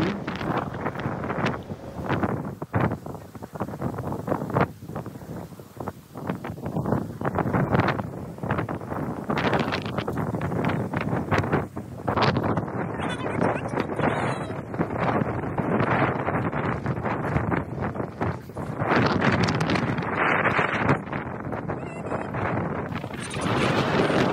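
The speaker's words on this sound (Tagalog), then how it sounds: "Rinig na rinig nyo naman yung hampas ng hangin dyan." Strong coastal wind on Taiwan's north coast buffets the microphone in a steady, roaring rush that gusts louder and softer throughout, with no voices.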